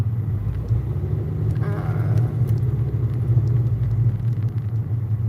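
A car's tire rumbles in a low, steady drone while driving, a continuous close road roar that fills the cabin with no voice over it.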